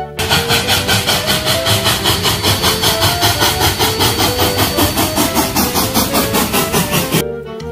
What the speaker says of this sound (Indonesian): ini ada kereta api uap